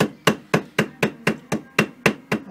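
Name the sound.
hammer tapping a gasket over bolt holes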